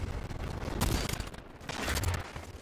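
Close, continuous bursts of automatic gunfire in the video game Destiny 2 during a team firefight, loud and dense throughout with swells of heavier shooting.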